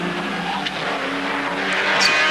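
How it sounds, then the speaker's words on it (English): Race cars drive hard through the S-curves of a racetrack, bottoming on the pavement, with loud engine roar and tire squeal close by as they pass. "you can see the cars really working, bottoming on the pavement through that section of the track"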